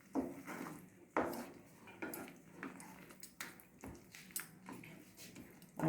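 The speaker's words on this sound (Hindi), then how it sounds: "ये सब्जियां डाल देंगे। मिक्स करेंगे अच्छी तरह से।" A spoon stirs chopped vegetables in a pan for white sauce pasta, giving quiet, irregular scrapes and soft metallic knocks at close range, ending on a louder clatter.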